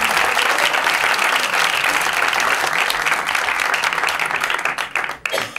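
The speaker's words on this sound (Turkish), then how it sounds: "Çok büyük alkışlarla İhsan Çulum." A stand-up comedy audience applauds loudly and steadily to welcome a comedian onto the stage, a dense wash of clapping that holds for several seconds before thinning out at the end.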